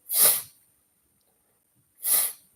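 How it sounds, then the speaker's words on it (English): Two sharp sneezes, separated by a pause of about a second and a half, close and otherwise silent. "that's why he sneezed so many times"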